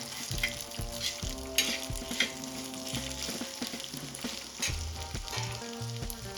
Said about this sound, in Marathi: इथे आपल्याला हे सर्व साहित्य एक मिनिटासाठी तळून घ्यायचं आहे तेलामध्ये पण आपले मसाले जळणार नाही याची काळजी घ्यायची त्यामुळे सतत हलवायचं